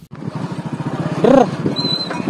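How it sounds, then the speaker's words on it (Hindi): Motorbike ride along a village road in Jharkhand, the engine droning steadily and close throughout with rider talk and a brief louder swell midway. "अभी तो फिलहाल मैं बाइक में जा रहा हूँ"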